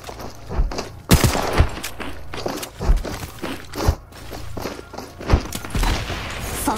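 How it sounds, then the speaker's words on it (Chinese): Apex Legends gunfire at moderate volume, irregular single shots and short bursts spaced about a second apart over a busy bed of in-game noise and movement. "有人在射击我！"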